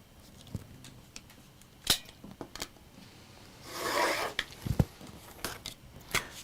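Fabric quarters cut along a marked line on a cutting mat: one sustained rasping slice in the middle, surrounded by sharp taps and clicks from handling, close by with no speech.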